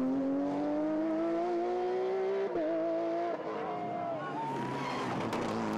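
A rally car races a stage at the 2014 Rally Islas Canarias, its engine note climbing loudly and steadily before a gear change and a rougher, rising roar.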